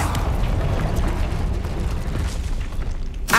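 Confringo fire spell exploding in Hogwarts Legacy, a sustained booming, rumbling blast that fills the whole stretch at steady loudness, with a sharp bright burst right at the end.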